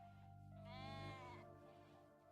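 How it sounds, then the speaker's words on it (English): A sheep in the RimWorld video game gives one drawn-out, wavering bleat of about a second, rising out of a steady low background hum and fading away. "I was like, what's that baaing sound?"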